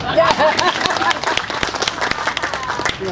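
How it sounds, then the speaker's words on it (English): Applause from a crowd gathered for a health center ribbon-cutting ceremony, loud scattered clapping that runs throughout, with a voice speaking briefly over the start. "Can I get a round of applause for that?"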